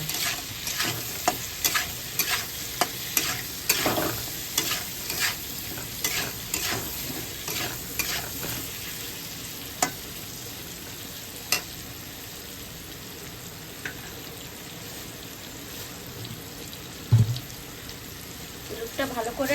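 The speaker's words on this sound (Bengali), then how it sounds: "এবার এটাকে ভালো করে নাড়িয়ে নেব।" Vegetables seasoned with turmeric and salt are stirred and fried in a pan for a hilsa curry with papaya and potato, giving a steady close sizzle broken by repeated scraping and clattering stirring strokes.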